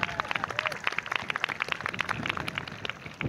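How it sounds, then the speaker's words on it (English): Audience at a spring community college commencement ceremony giving another round of applause, rapid scattered claps from a crowd, fairly close and sustained, with faint voices mixed in. "Can we give her another round of applause?"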